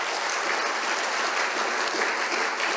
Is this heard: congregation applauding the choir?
yes